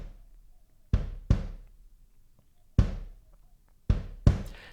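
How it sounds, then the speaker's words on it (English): A kick drum sample triggered in a DAW, sounding as punchy, deep thumps in an uneven rhythm, some arriving in quick pairs with quiet gaps between, clean and close with no talking. "Now the sound that I'm going to be using is this kick drum"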